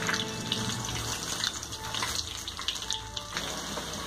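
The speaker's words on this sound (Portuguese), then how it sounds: "Eu tô fritando bastante porque eu tô com pressa." Steady crackling sizzle of French toast (rabanada) frying in hot oil, close and continuous, with a hissy, watery texture.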